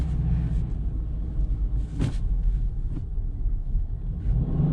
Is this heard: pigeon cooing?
no